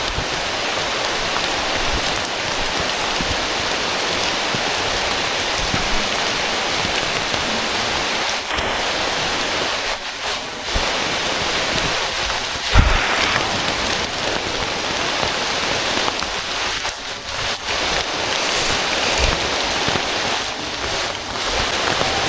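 Rain falling on a slippery mountain trail, a loud dense steady hiss of downpour with occasional heavier splashes, close and continuous.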